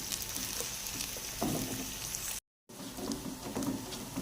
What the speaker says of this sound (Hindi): प्याज को हल्का ब्राउन करेंगे